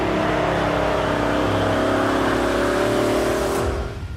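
A McLaren F1 with a naturally aspirated V12 revs hard and steadily for about four seconds, loud and close, with sustained engine harmonics that taper off at the very end.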